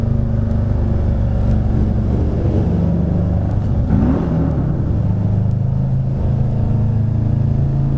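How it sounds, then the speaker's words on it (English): A car engine revs hard in a short rev bomb, a loud, steady rumbling drone that swells and pops around the middle before settling back to a throaty idle, close and continuous with no talk. "A little bit of a rev bomb there for you."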